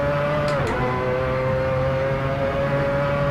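A race car engine from the Assetto Corsa racing game in a Le Mans race drones steadily and loud, with a sustained tonal whine that shifts slightly near the start and then holds at a constant pitch.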